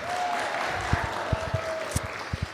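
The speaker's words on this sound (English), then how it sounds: "And can we give a big round of applause to Eleonora for helping with her brother?" Small gathering at a podcast community event giving a round of applause, a light scattered patter of hands with a few sharp louder claps standing out, heard at moderate distance without talk.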